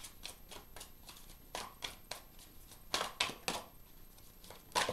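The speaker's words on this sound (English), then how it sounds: "So we'll just keep shuffling." Tarot cards are shuffled by hand in quick bursts of crisp riffling and tapping, loud and close, with short pauses between the flurries.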